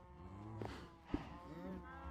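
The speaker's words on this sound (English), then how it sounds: "We got so many cows now." Cows mooing in Minecraft, two or three low drawn-out moos in quick succession, fairly quiet and clear against a soft background.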